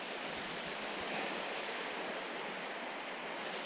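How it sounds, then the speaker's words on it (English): Water pours steadily over Brontë Waterfall on the moors, a continuous broad rushing hiss at a fairly faint level with no break or talk. "as we navigate past this water flow here"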